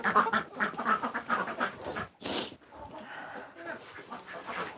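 Ducks and other farm birds quack in a busy, uneven chorus close by, with a short burst of noise midway during farm chores.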